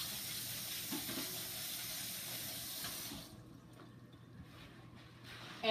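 Running tap water rinses a clothes-dryer lint screen with a steady close hiss for about three seconds, then stops, leaving faint drips and quiet.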